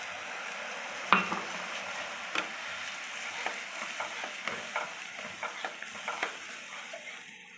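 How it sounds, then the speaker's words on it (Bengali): About a cup of milk hitting a spice paste frying in oil for an egg curry, giving a steady soft sizzle with a sharp splash and then repeated scraping stir strokes at a regular pace, close up and without speech. "এখানে আমি 1 কাপের মতো দুধ দিলাম।"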